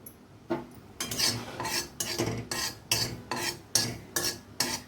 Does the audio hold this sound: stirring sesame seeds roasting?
yes